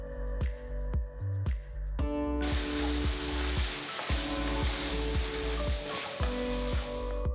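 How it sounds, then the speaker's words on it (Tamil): Carrots, beans, green peas and chopped tomatoes sautéing in a pan for vegetable sagu, a steady close sizzle and fry with repeated scraping stirs of a spoon against the pan. "பொடுசா நறுக்கின 2 தக்காளி சேர்த்து நல்லா வதக்குங்க."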